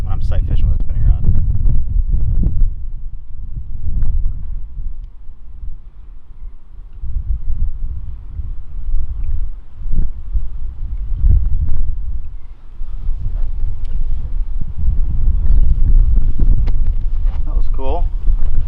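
Strong, steady 25-knot wind roars and buffets across the microphone on a small fishing boat in shallow water, a loud continuous rumble throughout, with someone talking over it.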